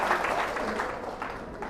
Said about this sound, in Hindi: बहुत जोरदार तालियां बजाइए।